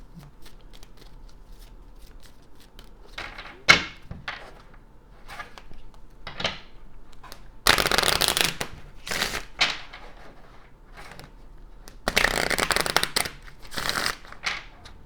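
A Kipper card deck being shuffled close by and fairly softly: scattered card flicks and taps, then two longer riffling bursts of a few seconds each. No one speaks.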